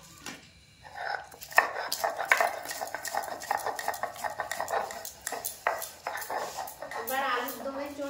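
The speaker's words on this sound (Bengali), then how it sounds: "এই মশলাটা আমি শিলপাটায় গুঁড়ো করে নিচ্ছি।" Spices are ground by hand on a shil-pata grinding stone, a close series of rhythmic scraping and knocking strokes of stone on stone, with a voice briefly heard near the end.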